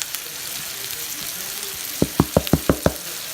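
Garlic and thyme in a pan with shallot and mushroom for white spaghetti, a steady sizzle followed by a quick run of six sharp utensil knocks against the pan.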